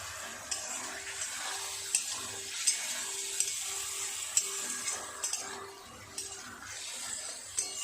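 Boiled potatoes go into a hot spiced pan for a vegetarian dhokar dalna, bringing steady close sizzling and frying with repeated stirring scrapes and small utensil taps against the pan.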